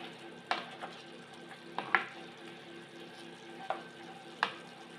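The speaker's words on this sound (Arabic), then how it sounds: "ومن بعد نحركهم مليح مع بعضهم." Kefta meatballs are stirred in a simmering pan of sauce, a low steady bubbling hiss broken by a few sharp spoon clinks against the pan.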